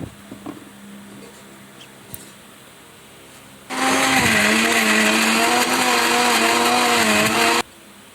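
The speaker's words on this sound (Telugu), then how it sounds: "వీటిలోకి పండు మిర్చి కూడా యాడ్ చేసి మరొకసారి మిక్సీ పడదాం." A kitchen mixer grinder runs on red chillies for chutney, starting abruptly midway with a loud, whining motor roar and grinding rattle for about four seconds before cutting off; quiet background with small knocks precedes it.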